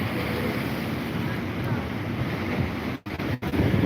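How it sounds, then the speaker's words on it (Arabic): Sea surf on a windy day at the shore, a steady broadband wash of rising waves close by with wind buffeting the microphone and two brief dropouts near the end. "الموج بيعلى بيزيد."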